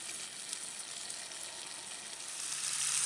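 Squirrel meat browning in a Dutch oven over an outdoor fire in the snow gives a steady, close sizzle and frying hiss that swells slightly near the end, with no talking.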